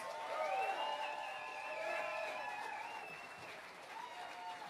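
A live crowd applauds and cheers after a performance at the 88Nine Radio session, a steady wash of clapping with a few whoops and voices on top, at moderate loudness.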